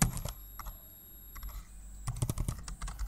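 Fingers type on a computer keyboard while entering Python Selenium code, giving quick, close, irregular clicks in bursts with brief pauses and no speech.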